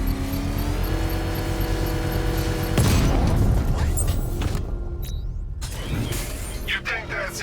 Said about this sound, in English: I can use the power winch to trigger a controlled explosion.